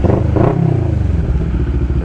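Four motorcycles idle together before a group ride in the Philippines, making a loud, close, steady rumble with a brief rev near the start and faint clatter. No voices are heard.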